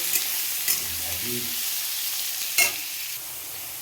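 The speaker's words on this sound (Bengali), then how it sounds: "পেঁয়াজ আর আলুটা দেখতে পাচ্ছ ভাজা ভাজা হয়ে এসছে" Onions and potatoes fry in a pan as they are stirred, giving a steady close sizzle broken by a few sharp scraping knocks of the spoon, with a brief voice heard once.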